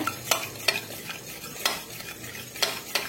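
Cooked rice is mashed in a pan with a utensil. Several sharp clinks and scrapes come close at irregular intervals over a low, steady background.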